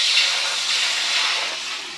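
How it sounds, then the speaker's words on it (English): Vegetables steam in a lidded pan after a couple of tablespoons of water go in, giving a steady, loud, close hiss that holds level and eases slightly toward the end, with no talking. "add a couple of tablespoons of water, put the lid on, and let them steam for a bit"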